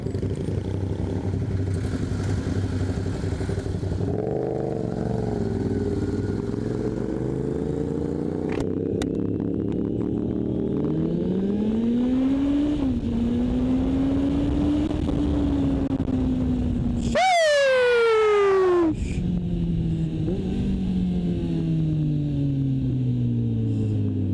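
Big motorcycle engine revving through the gears, rising and falling engine pitch with a sharp high rev burst near the end, loud and close, no talk.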